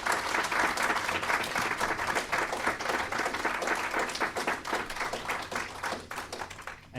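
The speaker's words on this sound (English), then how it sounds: "give all our panelists a big round of applause for today" Seminar audience applauding panelists at a tabletop gaming convention, sustained crowd clapping with crisp individual hand claps, fairly steady and then thinning out toward the end.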